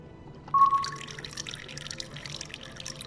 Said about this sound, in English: And we'll add the milk.